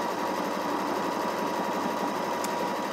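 A computerized sewing machine stitches out a quilt-as-you-go pattern on a tote bag panel, a steady, close, continuous motor whir with a fast even stitching rhythm that runs unbroken throughout, with no talking.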